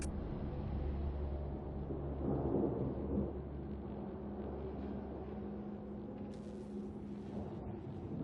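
A thunderstorm in Mass Effect Andromeda rumbles low and heavy, a rolling thunder swell peaking a few seconds in over a steady bed of rain, with a sharper crackle near the end; no voices.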